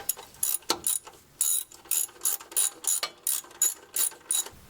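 A hand ratchet tightens a bolt while a Bilstein shock is installed on a vehicle, giving about a dozen quick bursts of sharp, close clicking in a steady back-and-forth rhythm with no talk.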